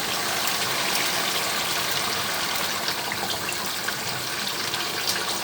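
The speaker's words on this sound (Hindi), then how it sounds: "अब 1 गिलास इसमें पानी डालते हैं।" A glass of water is poured into a pan of frying chicken kofta, a steady loud rush of liquid and sizzle that continues without pause.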